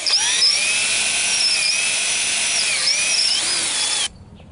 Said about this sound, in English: now I'm gonna start drilling my screw holes